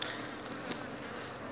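A steady, faint hum of buzzing honeybees, colonies emerging from winter short of pollen and nectar, fills the air, continuous and close, with no voices.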